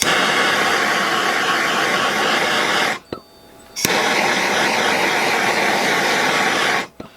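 A MAP gas torch roars steadily up close while burning fabric fuzz off a part before powder coating, cutting off briefly with a click in the middle, then relighting.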